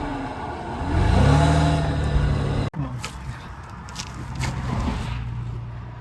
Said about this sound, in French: J'ai un tracteur, c'est pas pour rien, non?